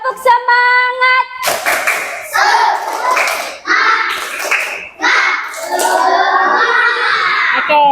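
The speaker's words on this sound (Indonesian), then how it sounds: "Coba kita tepuk semangat dulu ya" A classroom of children performing a rhythmic tepuk semangat clapping routine during an ice-breaking activity, sharp patterned claps mixed with loud chanting voices, opened by a short melodic tone.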